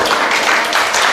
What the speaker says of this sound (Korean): 박수 소리는 크구만